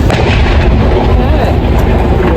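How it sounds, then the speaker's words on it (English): Cannons firing in a continuous, loud, dense barrage of deep booms, heard with people talking nearby. "here we have the cannons firing"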